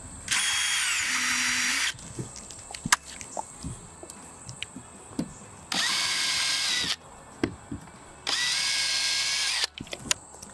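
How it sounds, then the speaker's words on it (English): A power drill drives screws into a camper table leg bracket in three separate whirring bursts of about a second each, with clicks and handling knocks in the quiet gaps between them. "And install screws."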